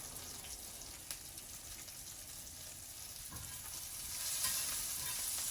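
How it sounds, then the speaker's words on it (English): Onions sautéing in a pan on a stove, a steady soft sizzle with faint crackle running throughout at low level, growing slightly louder toward the end, with no voices. "So just a few more seconds, I will saute the onions"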